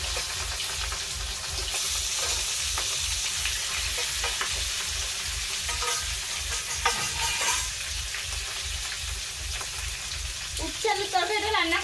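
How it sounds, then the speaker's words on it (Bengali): Previously cooked fish, lightly frying in a pan, sizzling steadily and close throughout, with stirring and spatula scrapes and a rhythmic low thump underneath; a few clatters near the end. "আর তার আগে মাছগুলো একটু ভাজা করে নিই"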